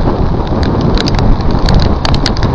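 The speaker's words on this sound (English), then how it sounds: "Snow's turned to sleet." Sleet falls steadily in a city park during a winter storm, making a dense, constant hiss with scattered crisp ticks of icy pellets striking nearby surfaces.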